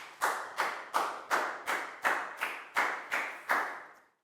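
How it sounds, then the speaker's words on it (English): Primary-school pupils applaud a classmate in a Year 4 science lesson: about ten crisp, evenly spaced claps, close and clear, in a quiet room with no talking. "Big round of applause"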